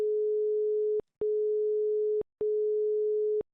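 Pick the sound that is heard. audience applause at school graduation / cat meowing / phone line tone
phone line tone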